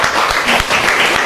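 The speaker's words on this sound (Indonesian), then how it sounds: "Tepuk tangan untuk kelompok 4." Classroom applause for a student group after their presentation, dense steady clapping from many hands filling the room at close range, brief and continuous.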